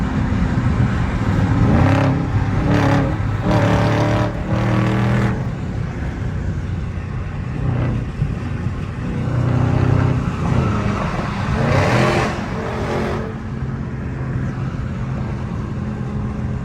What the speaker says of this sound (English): Y'all wanna hear this exhaust?